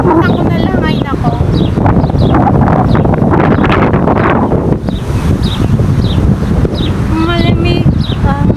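A cold breeze gusts steadily across a park stairway, rushing and buffeting the microphone for the whole stretch, with faint bird chirps and hints of distant voices underneath.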